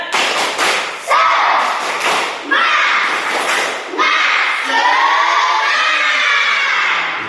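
Schoolchildren in a fifth-grade class shout a rhythmic clapping chant together, loud and close, with sharp thuds and claps punctuating the group voices across several beats.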